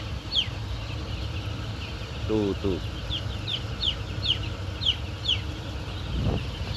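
Broiler chickens in a poultry house clucking and chirping in short repeated calls over a steady low hum of farm noise, with a man's brief remark.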